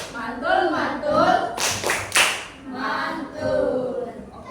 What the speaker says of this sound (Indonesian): Ayo kita beri dia tepuk mantul.